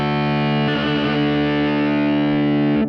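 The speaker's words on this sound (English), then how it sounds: "There was a distorted one I'm kind of curious about." A distorted electric guitar tone from an amp preset in Logic Pro X rings out as one sustained, heavily saturated chord that holds for nearly three seconds with a buzzing, harmonically rich edge and no talking.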